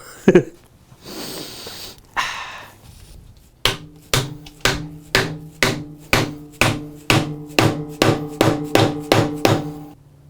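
A glued wooden dowel is driven into a crotch-wood pot set on a lathe, heard as about fifteen sharp, evenly spaced hammer blows that are close and loud, following some brief rustling and breathing noises at the start.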